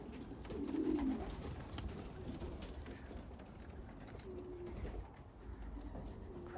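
Low, soft cooing from young racing pigeons, one clear call early on and fainter murmurs later, amid rustling and outdoor background noise.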